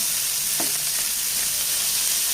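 Drumstick leaves being mixed in a hot pan for a dal stir-fry, with a constant broadband sizzle and one brief scrape of the spoon near the start, close and steady, with no voices.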